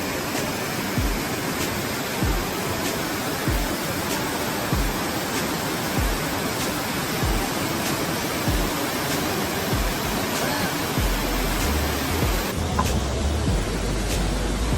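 Powerful waterfall roaring beside Eliza Brook shelter near South Kinsman in the White Mountains, with a small creek flowing into it; a loud, steady broadband rush that stays close and continuous throughout, with no voices.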